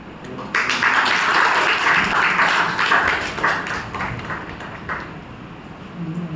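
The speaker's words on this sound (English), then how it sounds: "with a big round of applause, please welcome Toastmaster Chess" An audience at a Toastmasters meeting breaks into a round of applause to welcome a speaker, loud and continuous at first, then gradually thinning toward the end.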